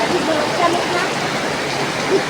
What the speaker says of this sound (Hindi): क्या मस्त बारिश हो रही, बिन मौसम की बारिश